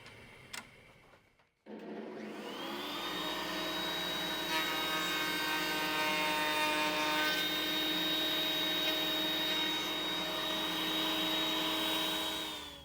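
A router on a Woodpeckers joinery sled cuts a sliding dovetail, starting after a brief pause and holding a loud, steady motor whine with bright tonal hum for about ten seconds before stopping near the end.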